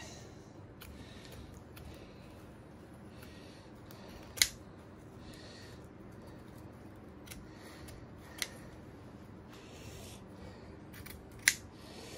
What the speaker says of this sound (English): I'm gonna go ahead and cut it out of the net.